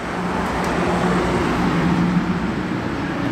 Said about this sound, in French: Bien violente cette Mustang suisse. Shelby GT 350.